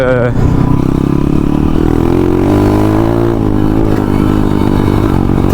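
An enduro dirt bike's new engine idles and runs loud and close, holding a steady throbbing rumble with slight shifts in pitch throughout.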